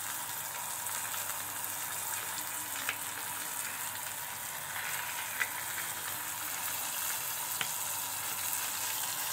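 Macaroni fish shallow-frying gently in hot oil over low heat, a steady close sizzle and crackle with a few sharp pops, with no talking.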